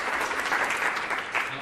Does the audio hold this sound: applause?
yes